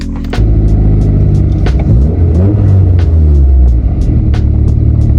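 Car interior engine drone and road rumble, loud and steady, with the engine pitch rising and falling as the car drives and shifts gears.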